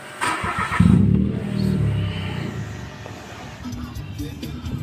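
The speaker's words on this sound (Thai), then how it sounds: "เดี๋ยวสตาร์ทเครื่องก่อนครับ" A 2015 Mitsubishi Attrage with a manual gearbox cranks and starts, its engine catching and then settling into a steady idle nearby, with someone speaking briefly around it.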